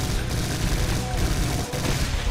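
Sustained rapid chain gun fire in the PC game Brutal Doom, a dense, loud, continuous rattle of automatic shots with a brief dip near the end.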